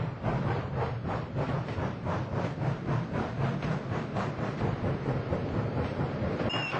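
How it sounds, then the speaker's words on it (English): A train pulls away and gets underway, a steady rumbling roar with a faint rhythmic clatter, fairly loud and continuous with no voices. "the train got underway again"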